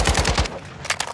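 Rapid automatic gunfire in a shooting video game, with a quick burst of loud close shots followed by a couple of sharper isolated cracks.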